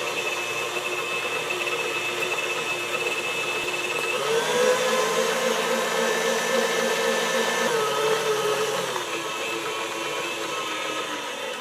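An electric hand mixer beats cream cheese, butter and sugar, giving a steady, loud motor whir that holds throughout and shifts pitch slightly partway as the beaters work the mixture.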